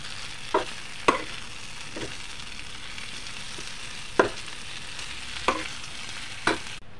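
A spoon scrapes and clinks against a pot in irregular strokes as curry with beef offal is stirred over a steady soft sizzle, with no voices.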